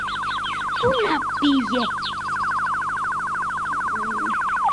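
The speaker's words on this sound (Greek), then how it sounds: "Γεια σας πουλιά!" Birds chirping in an animated Japanese fairy tale, a fast repeated trill running steadily in the background while a few separate tweets and calls rise near the start and later.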